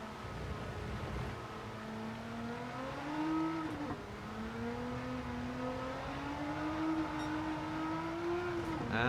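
A race car in the Gran Turismo 7 video game, a Nissan Fairlady 300ZX GTR with a swapped engine, holds a steady droning engine note that rises and falls slightly as it slides on the brakes and throttle.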